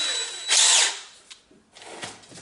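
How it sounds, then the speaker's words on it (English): A cordless drill spins sandpaper to sand a two-tone finish. It gives a sharp high whine that rises for about half a second, then a quieter rough scraping follows with short pauses, close up and with no speech. "You just have to have a drill, cordless drill, and a little bit of sandpaper."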